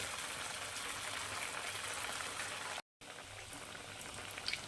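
Kankra pitha fry in hot oil, giving a dense, continuous bubbling sizzle that stays loud and even, with one brief dropout partway through.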